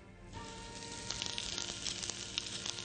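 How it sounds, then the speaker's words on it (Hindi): Finely chopped garlic sizzles in hot oil in a Chinese wok, a steady close crackle with dense popping bursts that build slightly after a quieter start. "तेल गर्म होते ही हम इस वॉक के अंदर सबसे पहले गार्लिक डाल लेंगे"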